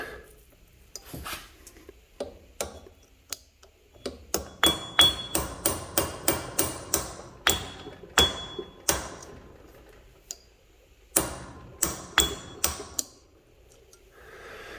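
A hammer strikes a Jeep Wrangler JK front axle U-joint in irregular bursts of sharp metallic blows, sometimes in quick runs of several hits and sometimes spaced by pauses, close and fairly loud with faint ringing between strikes.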